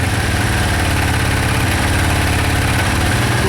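A Suzuki VX800 motorcycle engine idles on choke with its carburettors just cleaned, a steady, loud, close-up rumble that runs slightly uneven throughout, with no voices.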